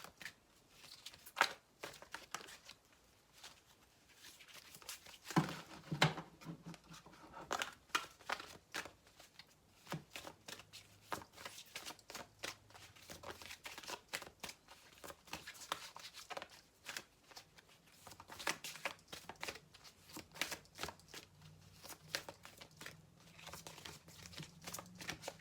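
Tarot cards are shuffled and handled close up for a reading, a long run of quiet crisp riffling, flicking and papery rustles, with a soft voice occasionally speaking underneath.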